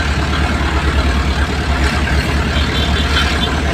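A truck delivering sand runs its engine with a steady low rumble, close and loud, holding an even idle-like drone throughout without other sounds.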